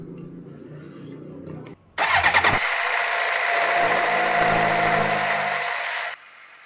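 A Suzuki GSXR motorcycle under restoration fires up after a quiet stretch, its engine catching with a few sharp bursts. It then runs at a steady, loud, close idle for about four seconds before cutting off abruptly.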